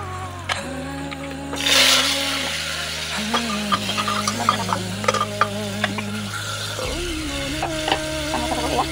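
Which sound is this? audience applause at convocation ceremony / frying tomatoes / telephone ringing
frying tomatoes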